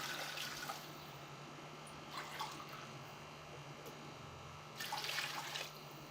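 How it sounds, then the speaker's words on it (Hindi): Water is poured from glasses into a pot of vegetable pulao, onto carrots and spices fried in ghee and oil. Faint splashing comes in a few short bursts over a low steady background. "अब इसमें पानी डालने लगे हैं"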